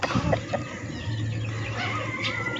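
Hens and chicks cluck in a coop, sounding close and continuous, with short overlapping calls over a steady, busy chatter.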